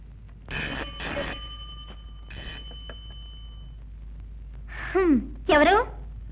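A telephone rings in two bright, buzzing bursts early on, then falls silent before a voice speaks briefly near the end.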